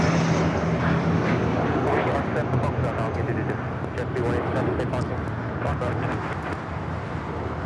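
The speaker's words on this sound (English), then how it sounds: "Now taking off is this Gulfstream G550" A Gulfstream G550 business jet takes off at Los Angeles airport, its engines a broad, steady roar that eases slightly toward the end, with someone talking over it throughout.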